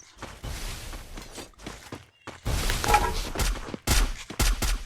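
MP40 submachine gun firing in a shooting video game, bursts of rapid automatic shots in separate volleys, loud and close, with no talking.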